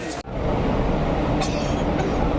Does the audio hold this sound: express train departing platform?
yes